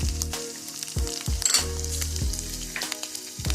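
Ground meat seasoned with cumin, black pepper, adobo and chili powder sizzles loudly in a pan, a close continuous frying hiss under rhythmic low thumps and scraping from stirring, no one speaking.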